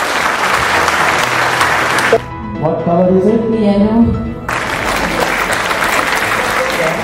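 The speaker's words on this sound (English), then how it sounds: "Round of applause for it." Audience applause at a corporate mentalism show at a club in Dubai, a loud crowd clapping that breaks off while a voice speaks briefly, then the clapping swells back and carries on to the end.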